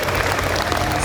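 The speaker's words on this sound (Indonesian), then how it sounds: "tepuk tangan dong untuk masyarakat Gresik" A brief burst of audience applause and crowd noise from a gathering in Gresik, dense clapping at steady loudness, with no clear voice standing out.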